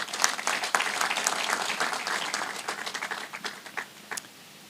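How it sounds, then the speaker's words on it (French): A crowd at the East African Regional Tourism Expo in Burundi gives a burst of dense applause that stays loud and then thins out toward the end. "Prêtez-moi vos mains pour applaudir le Seigneur"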